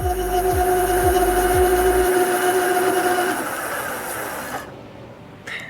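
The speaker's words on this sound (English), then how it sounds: "I'm going to start the throttle so you can hear it running." A Radio Flyer L885 cargo e-bike's electric motor runs at full throttle, a loud steady whirring whine with a few ratcheting bumps at the start, then it winds down and cuts off near the end.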